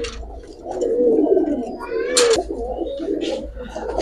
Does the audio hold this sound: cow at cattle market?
no